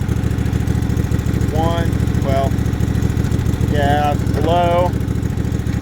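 A 1994 Sears Craftsman GT6000 lawn tractor engine running at a steady, throbbing idle, close and loud throughout, while someone talks over it.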